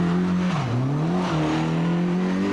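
A BMW 2002 from 1975 on conventional tyres, racing a provincial rally stage, its engine droning loud and close with a pitch that dips briefly then climbs again as it accelerates.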